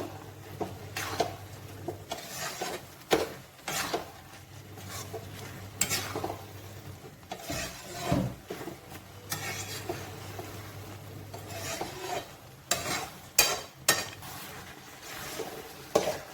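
A spoon stirs bottle gourd and mung dal in ghee in a pan until dry, giving repeated scrapes and metallic clinks against the pot over a soft sizzle, close and steady, with no talk.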